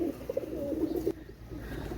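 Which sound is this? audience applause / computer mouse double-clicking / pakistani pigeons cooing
pakistani pigeons cooing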